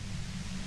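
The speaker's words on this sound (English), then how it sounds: "you can do it through the white noise" Loud, steady white noise in the game Disco Elysium, a flat, unbroken hiss with a low hum beneath it, lasting for a brief moment without any change.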